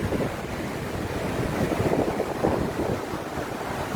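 Typhoon wind and rising flood water in a village district, a dense continuous roar of gusting wind and rushing water buffeting the microphone, loud and unbroken with no voices.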